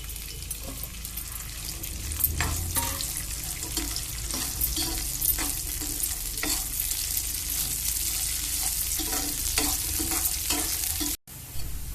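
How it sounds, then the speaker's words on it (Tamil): Pirandai (adamant creeper) fries in oil in a pan, giving a continuous loud sizzle with crackles and stirring scrapes throughout, and it cuts out briefly near the end. "ஒரு வானிலையிலே எண்ணெயை ஊற்றி இப்போ பிரண்டை நல்லா வறுத்துக்கணும்."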